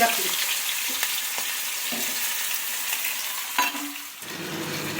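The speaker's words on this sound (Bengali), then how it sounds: "এবার এগুলোকে আমি সব ফ্রাই করবো একটা একটা করে" Potatoes frying in oil in a wok give a steady, close sizzle with soft stirring scrapes and a couple of brief clinks, and the hiss drops and changes tone near the end. No one speaks.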